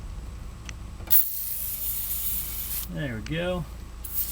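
An aerosol can of penetrating oil hisses in two sharp sprays at close range onto a nut and stud, separated by a pause, with someone speaking briefly between bursts.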